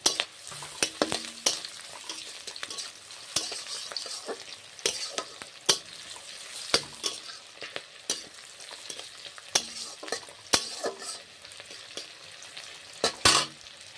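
Panch phoron spices sizzling in hot frying oil while being stirred, a continuous bright crackling hiss punctuated by frequent sharp scraping clicks of the spoon against the pan, close and without talking.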